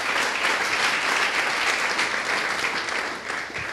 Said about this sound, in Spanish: yo quiero que aplauda ahí